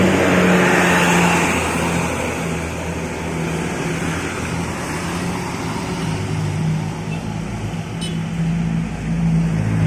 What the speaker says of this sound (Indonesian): Satu bis Java Tren mengarah ke Terminal Sunan Muria,